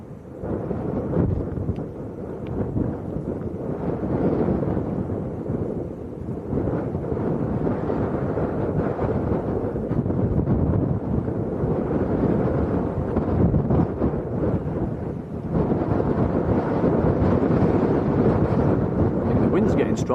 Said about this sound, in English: The wind's a bit breezy.